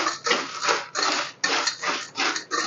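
Spices such as turmeric, salt and chili powder are stirred into a flattened rice (poha) mixture in a pan, giving a steady run of scraping and rattling strokes that rise and fall in close, moderately loud bursts with no talking.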